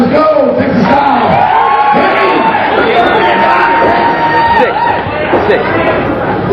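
Crowd at a Texas-style fighting event as a round begins, a loud, dense roar of cheering, whooping and shouted chatter filling the whole stretch without pause.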